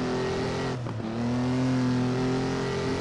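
A Formula Junior race car engine in the Assetto Corsa racing game drones steadily at the Feldbergring, with a brief dip around a gear change before the flat, sluggish note resumes.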